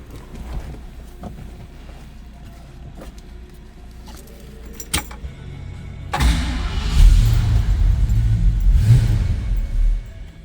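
A 1969 Ford Mustang Fastback cranks and fires, its engine catching with a loud, rough rumble partway through and settling into a heavy, uneven idle close by, with clicks and mechanical noises before it starts.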